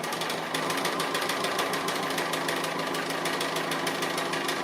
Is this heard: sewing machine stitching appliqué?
yes